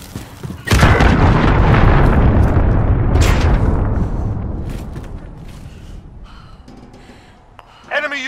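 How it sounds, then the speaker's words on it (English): Cruise missile explosions in the video game Call of Duty: Modern Warfare, where a single loud, close boom bursts in and rumbles out over several seconds as it fades, followed by a short crackle near the end. "Enemy cruise missile incoming."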